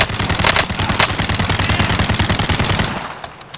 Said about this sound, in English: I'm shooting at them.